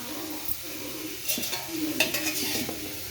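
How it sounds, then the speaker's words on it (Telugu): Mint leaves fry in oil in a pan with a soft, steady sizzle, overlaid by occasional metallic stirring scrapes and clinks from a utensil, all close and fairly quiet. "ఇప్పుడు పుదీన అయితే వేయించుకోవాలి"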